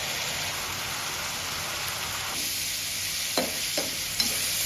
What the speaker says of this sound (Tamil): இது எல்லாத்தையும் ஃபுல்லாக மிக்ஸியாக வதக்கிக்குவோம்.